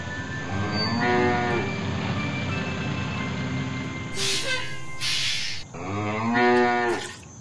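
A cartoon cow moos twice in drawn-out, buzzy lowing calls set apart by a few seconds, loud and near, over a steady background hum and a brief whooshing effect, with no talking.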